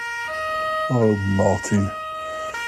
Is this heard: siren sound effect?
yes